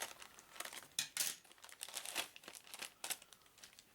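Close crinkling and rustling of a Ziploc-style plastic bag holding board game components, with irregular sharp crackles over a few seconds and no voices.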